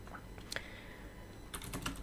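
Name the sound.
typing code on a computer keyboard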